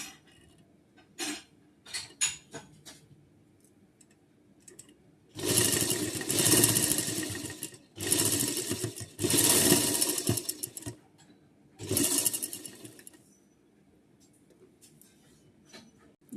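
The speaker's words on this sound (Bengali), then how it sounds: "এইবার সেলাই করবে।" A sewing machine stitches fabric in three distinct bursts of close, whirring mechanical chatter, separated by quiet gaps that hold faint handling clicks and taps.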